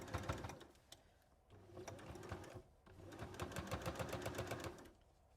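A sewing machine works over a bulky, wadding-filled seam on a fabric bowl, its close needle chatter coming in short uneven bursts that speed up into a steady rapid rhythm, with no voices.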